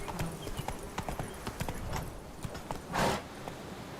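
Roach, the horse in The Witcher: Wild Hunt, gallops with quick, even hoofbeats close by, broken by a brief burst of rushing noise near the end.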